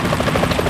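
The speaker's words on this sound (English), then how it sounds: "Is that a chopper I just heard?" Helicopter in the PS2 video game Metal Gear Solid 2: Sons of Liberty, heard as a brief, steady, fairly loud rotor thrum with a regular chopping pulse and no voices.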